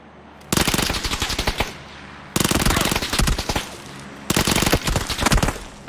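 An Uzi in PUBG fires three loud, rapid full-auto bursts, each lasting about a second, separated by short pauses, sharp and close with no talk over them.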